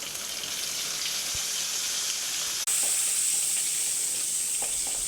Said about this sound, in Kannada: ಇದು ಫ್ರೈ ಆಗಬೇಕು ಬೆಳ್ಳುಳ್ಳಿ.